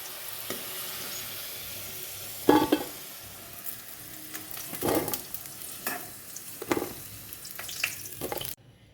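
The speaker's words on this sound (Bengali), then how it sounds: "ভাজা হয়ে গেছে এবার আলুগুলো তুলে দেবো" Potatoes fry in a pan with a steady sizzle, broken by several sharp scraping stirs of a spatula against the pan. The sound is close and there is no speech.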